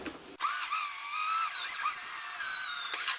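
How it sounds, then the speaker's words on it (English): A power drill whines loudly and steadily, pitch dipping briefly as it bites through a mobile home ceiling, then winding down at the end. "I can drill right through it."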